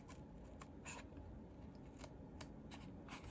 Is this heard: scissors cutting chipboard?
yes